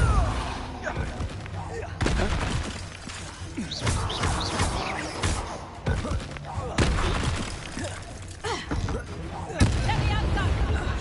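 A Depulso spell is cast in Hogwarts Legacy amid combat, with loud bursts, blasts and crashing impacts arriving in quick succession over a continuous backdrop of game effects and music.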